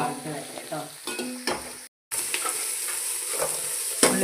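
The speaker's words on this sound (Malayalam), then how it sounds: "നമുക്ക് സവാള ഇട്ട് കൊടുക്കാം. സവാള ഒന്ന് വഴറ്റി വരട്ടെ കേട്ടോ." Onions sizzle in a pan as a vegetable pulao cooks, with a moderate, steady crackle and a few stirring scrapes, briefly cutting out before the frying resumes.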